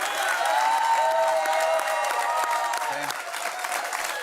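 A French television studio audience applauds, a dense, steady clatter of clapping that fills the room and eases slightly toward the end.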